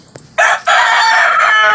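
A rooster crows loudly and close by, a long sustained call after a brief sharp squawk, with no other sounds around it.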